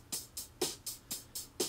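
A programmed electronic drum loop, a second pattern at a different pitch, ticks along in a steady rhythm of bright hissy hits with soft low thumps on alternate beats, quiet and alone.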